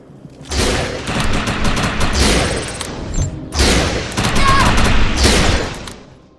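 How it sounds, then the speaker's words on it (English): Overcharged weapon fire in the video game Defiance comes as two long, dense bursts of rapid, loud gunshots with booming impacts and a short lull between them. "Shoot the projection while overcharge is activated."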